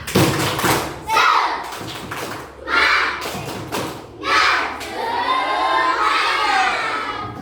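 A group of children does a rhythmic spirit clap in a classroom, bursts of patterned clapping and thumps mixed with shouting and cheering voices, rising in several waves.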